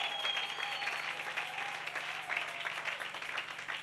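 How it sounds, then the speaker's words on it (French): Church congregation clapping loudly and continuously in a sustained burst of applause, dense and even throughout, with a faint tonal background underneath. "On acclame très fort le Seigneur."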